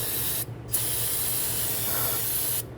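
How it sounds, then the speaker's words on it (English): Aerosol solvent sprayed onto the steering shaft of a 2008-2013 Infiniti G37x 3.7L V6, a loud continuous hiss broken by two brief pauses. "we're going to spray this down with some solvent."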